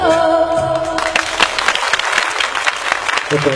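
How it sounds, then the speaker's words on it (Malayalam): An audience breaks into applause after a song performance, a dense burst of clapping that starts abruptly and carries on steadily, with a few voices mixed in. "നല്ലൊരു കൈയടി"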